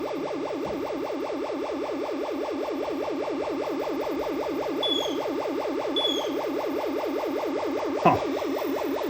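A Space Encounters arcade machine with its fire button stuck down gives off a fast, steady warbling tone that repeats continuously. A couple of faint chirps and one brief click break through near the end.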